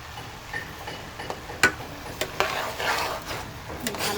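Basmati rice and mung dal go into a pan, with scattered rattling taps, scraping stirs and a light sizzle close by, the clatter growing busier toward the end.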